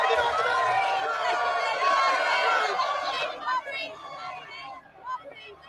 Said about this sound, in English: They're cheering for her.